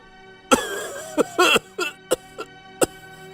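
An elderly man coughs loudly in a series of sharp close bursts, irregularly spaced, with a strained voiced quality between them.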